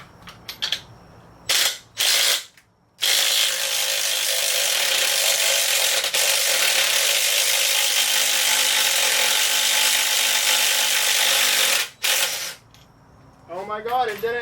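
A loud, sustained hiss of air blasting for about nine seconds while the top bolt comes out of a Camaro SS strut during a lowering spring install, preceded by a few short clunks and bursts and followed by voices at the end.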